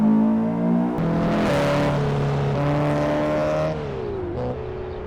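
Honda Civic Type R FK2 engine in a driving video game, loud and steady, revving up and shifting through gears with clear pitch steps and a brief drop near the end, no talk.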